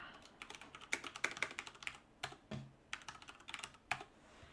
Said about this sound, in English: And then you basically type in your message.